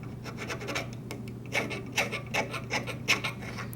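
Steel wool or sandpaper rubs back and forth across metal with soft, rhythmic scratching strokes that grow slightly stronger partway through, close by over a steady low hum.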